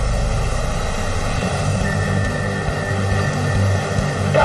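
RAF Red Arrows display jets roar steadily overhead during an aerobatic show of barrel rolls and sharp direction changes, a continuous loud engine drone with no voices.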